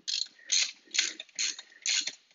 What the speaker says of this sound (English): Let's get that bolt out of there.